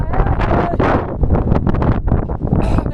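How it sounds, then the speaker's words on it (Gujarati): Strong monsoon wind blows across an open spot on cloud-covered Girnar hill, buffeting the microphone in loud, gusty bursts that roar and rumble continuously at close range. "ફૂલ પવન છે"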